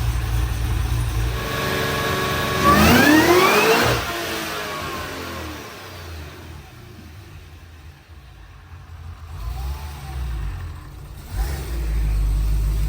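A Cadillac engine making a dyno pull on E85 fuel, producing around 700 horsepower, revs up hard in a loud rising sweep, then drops back to idle and blips again before settling, close and alone without talk.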